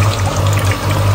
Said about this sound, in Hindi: अब इसमें जो है ना मैंने पानी डाल देना है, थोड़ा सा शोरबा इसका मैं रखूँगी